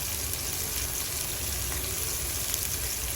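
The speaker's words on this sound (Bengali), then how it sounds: "এদিকে মাছটা এখন ফ্রাই করে নিচ্ছি" Fish frying in a pan in a home kitchen gives a steady, dense sizzle that spreads evenly across the whole clip, loud and close, with no voices over it.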